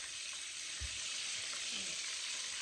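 Larb deep-frying in hot oil produces a continuous, even hiss with one dull low thump partway through.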